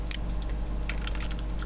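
Rapid clicks of a computer keyboard while working in Blender, a close, dense patter of light key taps over a steady low hum.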